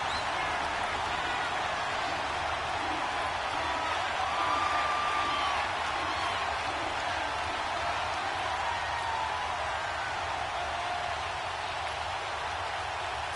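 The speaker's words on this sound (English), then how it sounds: "this crowd urging on their defense. They're up and making noise." A stadium crowd at a football game keeps up a steady, loud roar on third down, urging on its defense. The broad wash of noise holds evenly throughout with no clear breaks.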